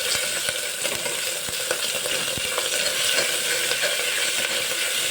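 Spices, mustard seeds, asafoetida and ginger-garlic paste sizzle in oil inside a pressure cooker over a low flame, a steady close crackle broken by soft repeated scraping taps of a spoon stirring.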